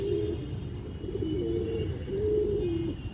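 Close pigeon cooing in drawn-out, warbling phrases repeats over a low steady hum.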